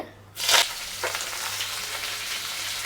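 A wooden spatula stirs onion, green chili, curry leaves and tomato in a hot pan: a sharp burst of sizzle as the ingredients drop in, then a softer continuous frying hiss with a scrape or two of stirring, no talking.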